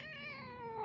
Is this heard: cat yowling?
yes